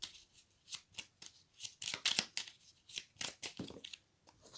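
Oracle cards being shuffled and drawn by hand, a close, crisp run of riffling flutters and soft papery slaps in quick irregular bursts, with no voices.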